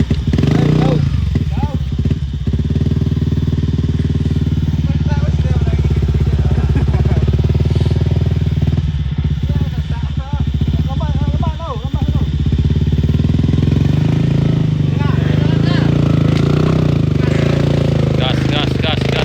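A motorcycle engine revs hard and steadily as it climbs a steep hill during an uphill challenge, loud and close. Excited shouting from spectators carries over it throughout.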